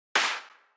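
A single hard techno clap hit without compression or limiting: one sharp, bright, noisy burst with a short fading tail, dry and alone.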